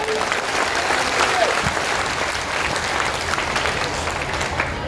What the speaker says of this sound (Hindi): अब एक बार प्रशांत किशोर जी के लिए जोरदार ताली बजाइए वहां